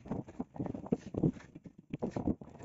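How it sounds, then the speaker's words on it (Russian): A stallion named Prince gallops, his hoofbeats landing in a quick, uneven rhythm of soft thuds at moderate distance, with no talk over them. "О! Хорошо идет галоп."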